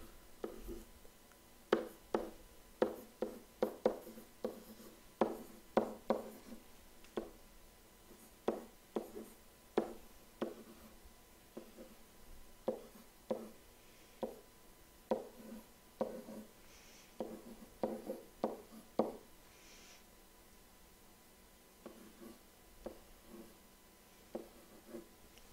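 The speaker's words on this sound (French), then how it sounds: "tu écris des nombres" A pen scratches numbers onto a sheet of paper in a long series of soft, short, irregular strokes and taps, close and quiet with pauses between figures, no talking.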